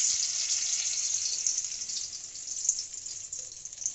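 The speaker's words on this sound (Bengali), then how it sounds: "তো কড়াইয়ের মধ্যে আমি তেজপাতা দিলাম," Bay leaves dropped into hot oil in a wok give a continuous bright, hissing sizzle that stays fairly loud and even throughout, with a few small crackling pops and no talking.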